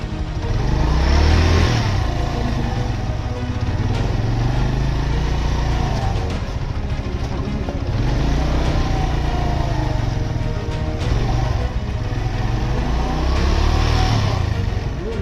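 A bike engine strains and revs repeatedly in uneven surges during a push-start attempt on a mountain road in Nagar, Gilgit-Baltistan, loud and close throughout with no talk.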